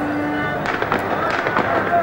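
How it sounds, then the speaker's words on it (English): Bursts of gunfire ring out at the Ramallah compound during Yasser Arafat's funeral, sharp cracks scattered through a dense, noisy crowd din with voices throughout. "And still the gunfire ringing out in the compound"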